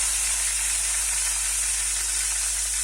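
Seasoning spits and sizzles in hot oil for a garlic kuzhambu, a dense, loud, unbroken hiss of frying with no voices over it.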